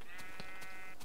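A sheep in the Minecraft video game gives a short, clear synthesized bleat, near and moderately loud against steady in-game background sound.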